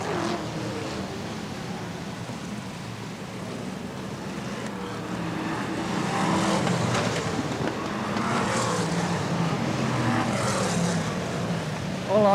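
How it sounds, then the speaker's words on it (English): BriSCA Formula 1 stock cars roar around Swaffham Raceway at a 1994 Grand Final, a broad continuous engine drone swelling louder midway, heard at a distance with crowd ambience. "BriSCA Formula 1 Stock Car Grand Final"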